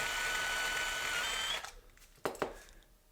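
A small power drill whines steadily as it bores into a Hot Wheels '56 Ford Ranch Wagon die-cast car, then spins down and stops, followed by a couple of faint clicks; quiet and close.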